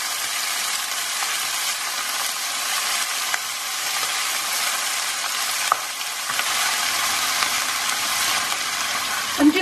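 Cabbage fries in a hot pan with a loud, continuous hiss that holds steady throughout, broken by a few faint scrapes and taps of stirring.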